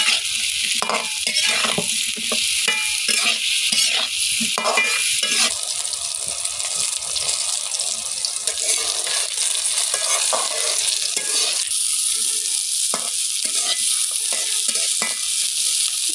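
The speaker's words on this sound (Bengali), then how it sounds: "কড়াইতে তেল দিয়ে দিয়েছি এবং কাঁচামরিচ ও পেঁয়াজ কুচি দিয়ে ভালোভাবে লাল লাল করে ভেজে নেব" Green chilli and chopped onion stir-fry in oil in a kadai, a constant close sizzle broken by repeated scrapes and knocks of a spatula against the pan, with no talking.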